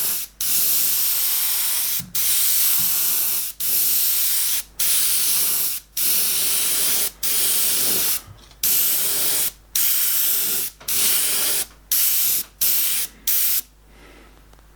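Airbrush spraying a fine paint mist for a landscape painting, a series of about a dozen steady hissing bursts of a second or so each, separated by short pauses, close and fairly loud with no talking.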